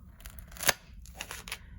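Scissors make a single crisp snip, then a few lighter cuts, close and fairly quiet, while cutting at an angle into a craft piece.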